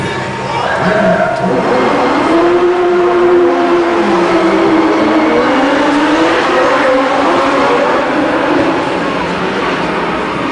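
A backlot tour shuttle tram rolls past at a studio lot, making a loud, steady engine rumble with a rising and falling whine that holds for the whole stretch.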